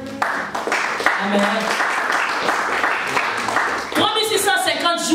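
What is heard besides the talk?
church congregation applauding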